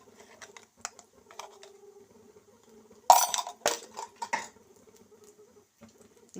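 Dried chillies and asafoetida are stirred into a hot oil tempering in a pan, with light scraping and a burst of clattery spoon-on-metal sounds midway, fairly close over quiet background.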